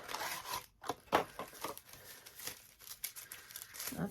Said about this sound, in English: Then I'm going to take some BandAids.